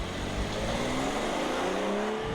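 A 2018 BMW 640i Gran Turismo xDrive accelerates hard, its engine note rising steadily in pitch under loud wind and road roar.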